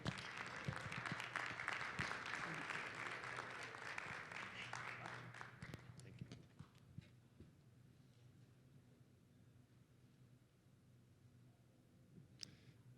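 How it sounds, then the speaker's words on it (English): Audience applause welcoming a keynote speaker at a health conference, full and sustained for about six seconds before fading to a few scattered claps in a quiet hall. "Join me in welcoming Justin up on stage with a huge round of applause"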